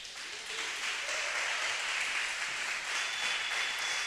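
A church congregation applauds during a sermon, a steady, moderately loud wash of many clapping hands with a faint tone running underneath.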